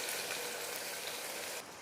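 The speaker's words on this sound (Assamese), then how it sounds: "আৰু পিঁয়াজখিনি ৰঙচুৱা হোৱালৈকে ভাজি ল'ম।" Two finely chopped onions fry over medium flame with whole spices in a pressure cooker for chicken pulao, giving a soft, even, close hiss that drops away sharply near the end.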